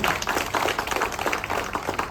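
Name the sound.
audience clapping loudly at an award felicitation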